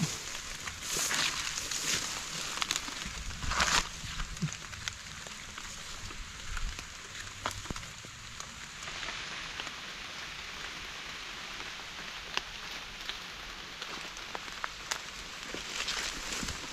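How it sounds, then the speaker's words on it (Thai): Steady rain falls through the clip while mushrooms are being picked outdoors, a continuous hiss with scattered louder drops and patters close by, no voices. "ฝนมันตกครับ"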